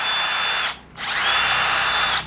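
A Milwaukee M12 FQID impact driver runs with a loud high whine, stops briefly, then spins up again and holds a steady pitch before cutting off.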